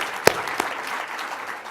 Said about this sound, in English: Let us applaud Kathy Hochul for her wonderful leadership